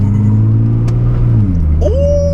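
A 580 bhp Nissan R35 GTR on a country road in manual mode, its engine droning loudly under acceleration, then dropping in pitch at a paddle-shift gear change before pulling again with a rising tone.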